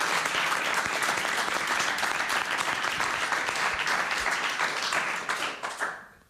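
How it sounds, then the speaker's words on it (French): An audience in Brussels applauds arriving guests with sustained, dense clapping that carries on evenly before fading out over the last second. "Je vous demande de les applaudir."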